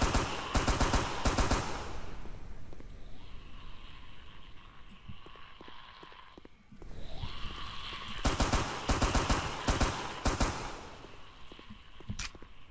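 Video game gunfire in bursts of rapid shots, loud at the start and again near the end, with a lull in between and a steady mechanical hum running underneath.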